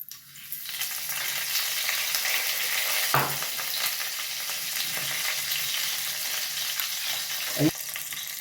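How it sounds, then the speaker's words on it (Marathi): Mustard seeds, cumin and curry leaves sizzle and crackle in hot oil for a Maharashtrian Bhogi mixed-vegetable dish. The frying is steady and close, with a couple of sharp stirring clinks partway through. "मोहरी तरतरली की जिरं घालणार त्याच्यानंतर कढीपत्ता घालायचा आहे"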